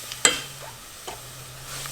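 Rice being stirred with a seasoning blend in a pan for a creamy four-cheese copycat dish: a few soft scraping stirs, one sharper clack near the start, and a faint background hum. Quiet and close, with no talking.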